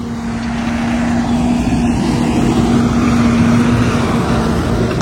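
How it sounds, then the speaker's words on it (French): Tractor passing by with a loud, steady engine drone and a strong low hum that holds close and constant throughout. "Après le passage de ce magnifique tracteur."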